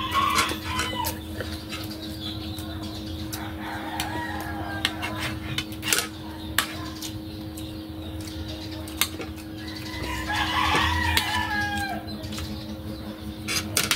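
Chickens cluck intermittently nearby, with scattered sharp calls, a brief burst of wing flapping, and a steady low background hum between them.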